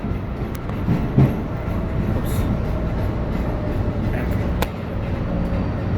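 An MBTA Green Line subway train rolls steadily into a station, its loud continuous rumble and rail noise filling the car with brief clanks and a faint voice in the mix.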